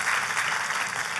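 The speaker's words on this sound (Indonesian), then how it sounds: "Katakan amin dan tepuk tangannya yang paling meriah buat Tuhan kita." A church congregation gives a dense, continuous round of applause, loud and close, filling the whole moment with many hands clapping at once and no distinct voices.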